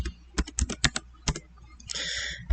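Fingers tap out a title on a computer keyboard in a quick irregular run of crisp, close keystrokes, with a brief louder clattering burst near the end.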